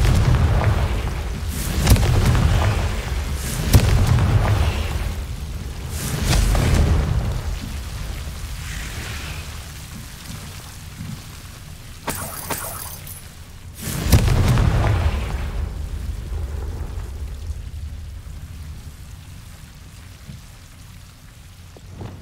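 Confringo spell explosion in a Harry Potter video game, heavy booming blasts recurring several times with low rumbling decay and crackling debris, loud and up close.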